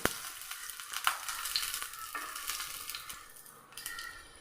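Garlic sautéing in coconut oil in a pan: a steady bright sizzle with crackling pops and a few stirring scrapes, close and fairly quiet, fading slightly toward the end.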